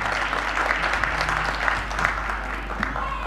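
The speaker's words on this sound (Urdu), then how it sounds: "تالیاں ہلکی بجی ہیں، تھوڑی اور زیادہ بجنی چاہیے تالیاں" Audience applause at a mushaira poetry gathering of a Pakistani community in Portsmouth: steady, fairly close clapping from a crowd, continuous for a few seconds with a faint hum underneath.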